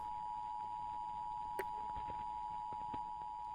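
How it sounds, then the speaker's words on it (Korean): An emergency alert system tone in a video game sounds as a steady, continuous electronic beep held throughout, fairly faint and alone, with a couple of small clicks partway through. "긴급 경보 시스템 지역 당국의 시민 위험 경고를 발령함"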